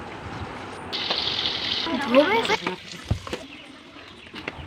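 Water splashes and pours over scrubbed dishes, pots and pans being rinsed, a brief gushing burst with clatters, with voices faintly present.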